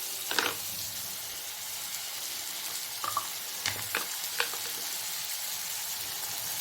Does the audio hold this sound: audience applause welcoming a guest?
no